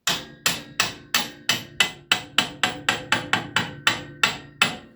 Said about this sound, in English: Let's tap that bugger through there.